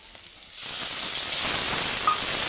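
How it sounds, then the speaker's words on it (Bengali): Ginger paste and its water hit a pan of frying onion and green chilli, a steady loud hiss and sizzle surging up after a quiet start and holding on evenly. "পেঁয়াজ আর কাঁচা লঙ্কাটা ভাজা হয়ে গেছে, দিয়ে দেবো আদা বাটা আর আদা বাটার জলটা"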